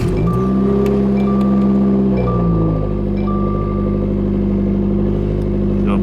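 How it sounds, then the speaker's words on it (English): A Subaru WRX engine cranks and catches, then settles into a loud, steady idle that holds close and continuous throughout, with no talking. "Let's go ahead and start the car up"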